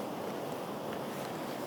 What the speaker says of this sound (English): we can start to use some of these waves once we step in